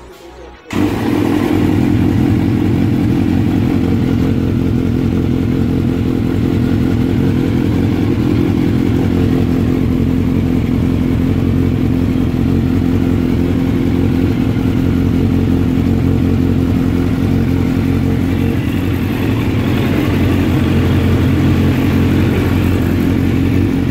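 A Kawasaki Z900 motorcycle engine runs loud and close, a sustained deep rumbling roar with revving that holds steady for the whole stretch after a brief start.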